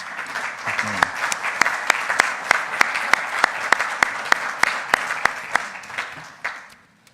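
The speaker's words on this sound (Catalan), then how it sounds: "Us rebem amb un aplaudiment, sisplau." An audience at a Tarragona gathering on the Smart City chair applauds to welcome the speakers, with sharp, distinct claps over a murmur of voices, fading toward the end.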